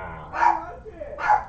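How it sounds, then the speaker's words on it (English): Two sharp barks from a dog, spaced about a second apart, ring out fairly close over a low background hum, with a voice murmuring faintly beneath. "Dogs have gone mad."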